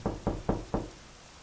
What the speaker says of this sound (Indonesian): Pintu kamar kos saya diketuk.